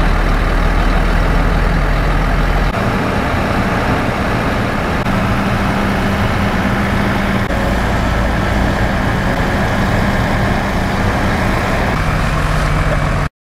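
A concrete mixer truck and a concrete pump truck arrive together, their heavy diesel engines throbbing loudly and steadily up close with no break.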